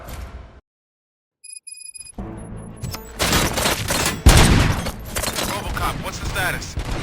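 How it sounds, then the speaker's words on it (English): Gunfire from the video game RoboCop Rogue City erupts as rapid, dense bursts of shots after a brief silence and a chime, loud and sustained, with game voices speaking over it. "Gunshots? What's going on?"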